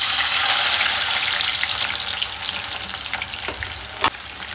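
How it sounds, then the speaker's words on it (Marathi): Onions fry in hot oil with a loud, bright sizzle that slowly fades, punctuated near the end by a few clinks and scrapes from stirring. "मस्त कांदा तळून घेऊ"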